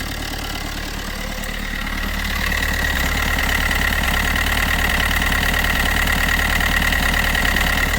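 A Multijet car engine idles steadily and close by, a continuous low rumble that grows slightly louder after a couple of seconds, with no voices.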